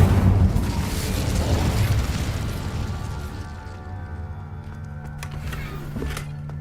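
A Hogwarts Legacy Incendio fire spell bursts loudly as a broad blast, then its rumbling roar fades steadily over several seconds.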